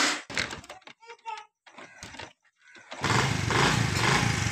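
Someone speaks briefly, then a motorcycle engine starts up and runs steadily and loudly as the rider sets off, a close, continuous rumble that takes over the sound.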